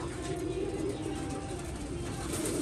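Pigeons coo in a soft, continuous murmur close by, low repeating calls layered over steady background noise.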